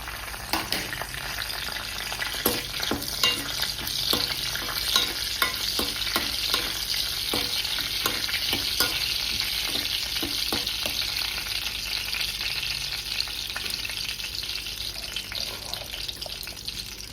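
Spices dropped into hot oil for tomato rice crackle with a loud, dense, continuous sizzle, close by, with rapid repeated stirring scrapes running through the first half and no voices.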